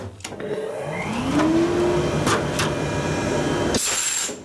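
Compressed air rushes from a sand bead blaster gun in a workshop as a steady loud blowing roar, with a rising whine partway through and a sharper hiss near the end.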